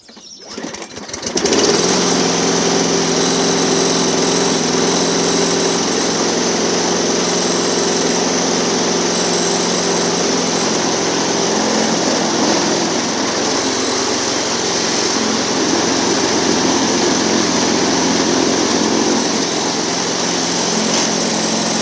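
A customer's lawn mower that vibrates after hitting a post starts and runs with a steady, loud, buzzing small-engine drone that holds evenly for about twenty seconds, with no talking.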